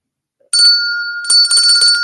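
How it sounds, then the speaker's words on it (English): A handheld bell rings loudly and close by, two bright metallic bursts with a short gap between them and the first tone sustaining briefly, alone without talk. "Only because Miss Sherry don't like my bell."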